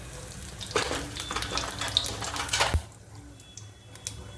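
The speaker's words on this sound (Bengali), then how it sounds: "গোটা জিরা দিয়ে দিলাম" Whole cumin seeds dropped into hot oil in a kadai sizzle with a crackling hiss, joined by scattered pops; the sizzle swells and falls away sharply near the end, leaving a faint quiet hiss.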